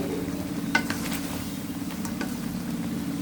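Masala sizzles steadily in a pan while a spoon scrapes and stirs it in a few brief strokes, a close, quiet frying hiss with no talk.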